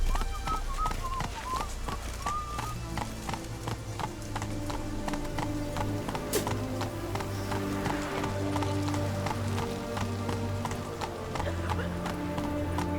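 Roach, a horse in a video game, gallops with a steady, quick clip-clop of hooves throughout, fairly close and prominent over a tonal game background.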